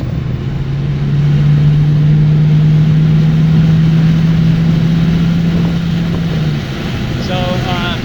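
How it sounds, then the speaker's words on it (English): A car engine runs at a steady idle, giving a constant low hum that holds for several seconds and then eases slightly near the end. No one speaks. "I really don't have any complaints about how the engine runs."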